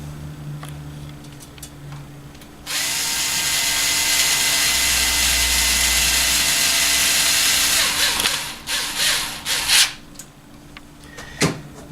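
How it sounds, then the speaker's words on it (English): A power tool drives supplied machine screws into the threaded holes of an AtmosAir Matterhorn Series unit frame during installation. It gives one loud, steady whine for about five seconds, then a few short bursts and clicks. "take the supplied machine screws and screw them into the frame"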